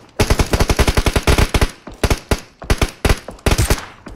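Automatic rifle fire in the PUBG Mobile battle royale game, loud and close: rapid bursts of sharp shots in a steady rhythm, then several shorter bursts separated by brief pauses.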